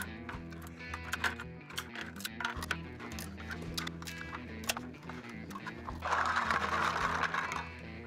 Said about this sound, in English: One of the things I love about this 3D printer is its ability to accurately print multiples on one plate.